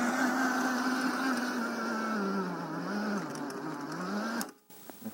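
Garden tiller engine running steadily with its wheels raised, a loud continuous droning hum with a wavering pitch that carries on alone for several seconds before cutting off abruptly near the end.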